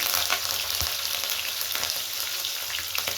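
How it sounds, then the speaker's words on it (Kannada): Slit green chilies and curry leaves sizzle in hot oil for a hyacinth bean curry, a steady close, bright hiss with a few soft clicks of the pan and no voices. "ಸೀಳಿರೋ ಮೆಣಸಿನ್ಕಾಯಿ ಹಾಕೋತಾ ಇದ್ದೀನಿ. ಕರಿಬೇವು ಹಾಕ್ತಾ ಇದ್ದೀನಿ."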